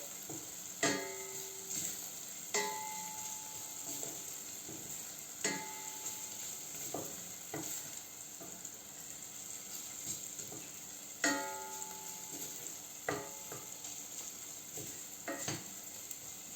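Onions fry and caramelize in a pan with a constant quiet sizzle, broken every few seconds by light ringing knocks of a utensil against the pan.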